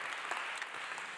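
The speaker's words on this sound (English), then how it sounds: "Another round of applause for Robin." An audience at an awards dinner applauds, a steady, dense roar of many hands clapping together without a break.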